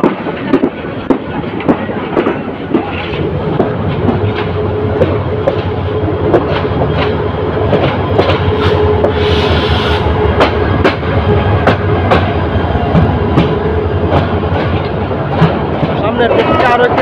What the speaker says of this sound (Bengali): কমলাপুর রেল স্টেশন থেকে ট্রেনটি বেরিয়ে আসছে।